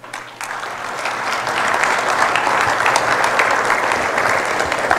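Audience applause fills the room, a dense, steady clapping that starts abruptly and holds evenly for several seconds with no voices over it.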